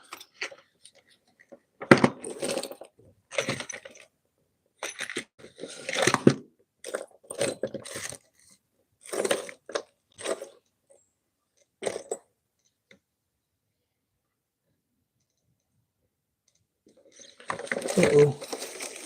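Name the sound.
rummaging through tools for a burnishing bit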